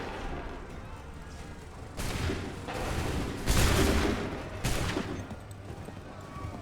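Volleys of musket gunfire in the Assassin's Creed III video game, several loud broadband bursts fired in rounds a second or so apart, with rumbling echo between them and no speech.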